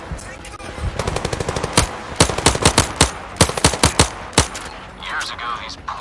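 Video game gunfire from Zero Caliber: rapid automatic bursts of sharp shots, close and loud, followed by a string of heavier single shots and a faint trailing tail.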